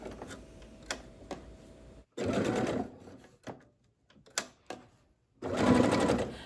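A sewing machine stitches a zippered cover for a throw pillow in several loud, steady runs with brief pauses and small clicks between them, close up and with no talking.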